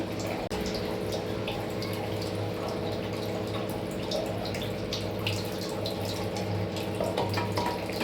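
Water squeezed by hand from grated radish trickles and drips steadily into a vessel, a close, continuous splashing stream with scattered droplet ticks and no talking.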